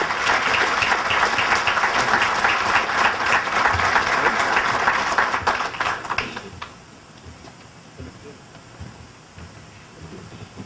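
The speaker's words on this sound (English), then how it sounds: "I'd like to offer a round of applause for our color guard and to Staff Sergeant Johnson" A large audience at a State of the City ceremony applauds the color guard and a staff sergeant, a dense, loud wash of clapping that holds steady, then thins and fades to scattered claps and room noise.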